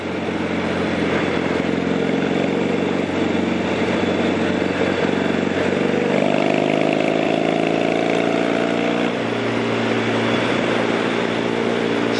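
A motorcycle cruising along on a St. Patrick's Day ride, its engine droning steadily and close with shifting tonal harmonics as the pitch rises and falls, no talking over it.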